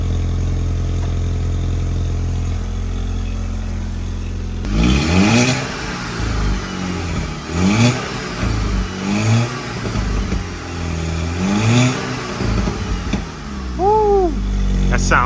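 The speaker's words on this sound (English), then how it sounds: "Listen to that idle." A Volkswagen Mk6 GTI engine fitted with an ECS catted downpipe starts and settles into a steady low idle, close by, with brief rises in pitch and people talking over it.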